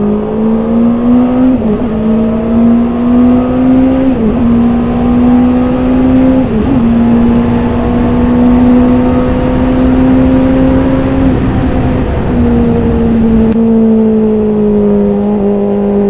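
A 2021 Honda CB650R motorcycle on a race track holds third gear, its engine a loud, close, steady drone whose pitch sags briefly a few times as the throttle eases, then recovers.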